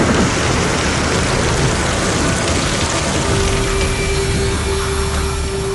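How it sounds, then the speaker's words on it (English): Dense, steady heavy rain from a storm in the Rhodope Mountains of southern Bulgaria pours down in a constant loud hiss, with a faint low rumble underneath. "After 2 hours of heavy rain, the storm passes and there's a break in the clouds."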